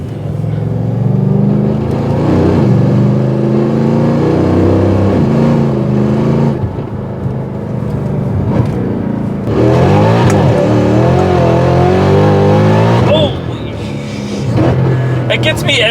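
A Mercedes E63 fitted with a new aftermarket exhaust, bigger injectors and a new pulley revs hard in long, loud pulls that rise and fall, with people talking and exclaiming over the engine.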